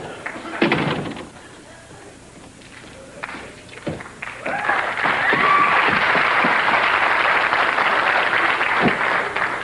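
A sitcom studio audience bursts into applause after a few scattered thuds and sounds of movement, then the clapping swells into a loud, steady roar that continues to the end.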